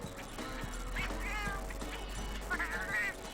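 A cat meows inside Monster Hunter Freedom Unite on iOS, a couple of mid-pitched cries rising over steady game music and background sound, fairly close and clear.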